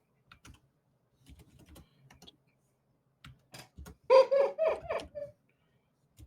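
Computer keyboard typing in sparse, irregular bursts of clicks, ending in a quick louder flurry of keystrokes near the end, with a brief murmur of a voice.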